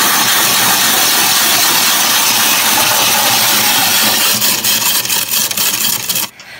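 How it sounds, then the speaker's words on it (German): A Reibemeister grater grinding hard, stale bread rolls into crumbs, giving a loud, steady rasping roar that holds for several seconds, grows rougher and more uneven, then cuts off abruptly at the end. "altes Semmeln, altes Gebäck einfach hart werden lassen, in den Reibemeister geben, wieder den Stopfen verwenden und dann ganz einfach nach unten drücken"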